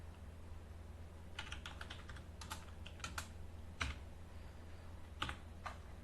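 Computer keyboard being typed on while writing C# code, scattered short bursts of key clicks over a quiet low hum, with a few isolated louder keystrokes.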